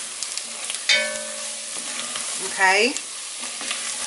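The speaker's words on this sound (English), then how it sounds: "I'm going to mix it all up for just like a minute or 2." Flour being stirred into sautéed onion and garlic in a pot for an Irish beef stew, giving a soft scraping, stirring sizzle with a brief voice near the start and a short squeaky scrape later.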